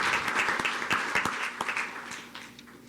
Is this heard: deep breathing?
no